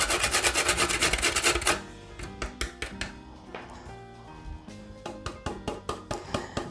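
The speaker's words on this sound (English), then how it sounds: "I'm just going to be grating a little nutmeg in my dumplings" Nutmeg is grated by hand into dumplings for a Bajan pumpkin soup, giving quick, rhythmic rasping strokes, fast and even at first and then slower and more spaced, with close, dry scraping and no talk.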